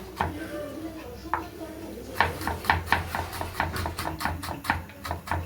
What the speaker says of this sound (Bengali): এবার আদাটাকেও আমি কুচিয়ে নেবো